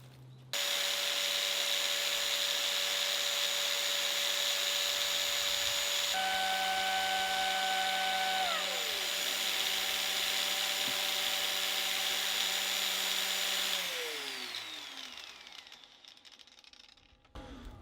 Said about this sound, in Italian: Teniamo qua il flessibile